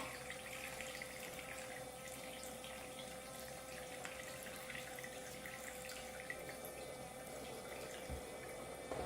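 A toy electric kitchen sink, a children's color-changing dishwasher playset, runs a steady thin stream of water from its little pump-fed faucet, with a faint continuous trickle and drip throughout at low volume.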